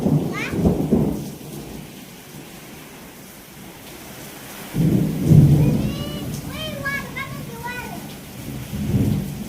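Heavy rain pours steadily while deep rumbles of thunder roll in twice, with birds chirping briefly in the background.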